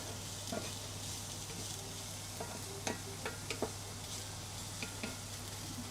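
Onions frying in a pan for beef ragu, a steady soft sizzle close by with a few small stirring taps and clicks, no talk.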